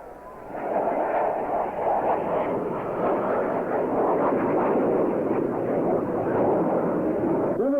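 A Blue Angels jet rolls down the runway on takeoff and accelerates, a loud, continuous broadband roar that swells in the first second and then holds steady and powerful throughout, with no talk.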